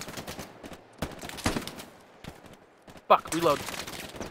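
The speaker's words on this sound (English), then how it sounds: "Someone's got some suppression fire over me." Machine gun and rifle fire in the World War II shooter Hell Let Loose, with bursts of sharp shots cracking in at irregular moments, mixed with a voice talking over the gunfire.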